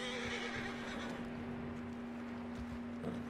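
Red Dead Redemption 2 horse whinnying, a drawn-out tonal neigh held steadily near the listener, with faint hoof clops and ambient game noise beneath.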